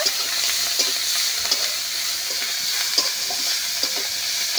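Small shrimp fry steadily with salt and turmeric, giving a continuous close sizzle broken by occasional clicks and scrapes of stirring, with no voices.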